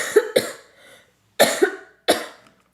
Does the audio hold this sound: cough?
yes